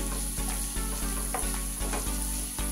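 Capsicum frying in a pan, a loud, close, steady sizzle punctuated by rhythmic scraping stirs about every half second, with a low hum underneath and no voices.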